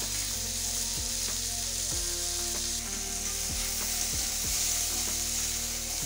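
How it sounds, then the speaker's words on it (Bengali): Onion, tomato and cashew frying in a kadai for chicken kofta, a steady close sizzle with a few low knocks of stirring, no talk. "পেঁয়াজ টমেটো কাজু সবই আমার একদম পারফেক্ট ভাজা হয়ে গেছে"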